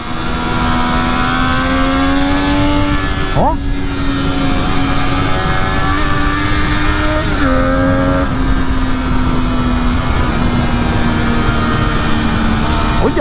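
Engine of a 2009 Triumph Daytona 675i sport motorcycle while riding, a steady loud drone with two quick shifts in pitch as gears change, heard up close under wind rush with a brief spoken exclamation.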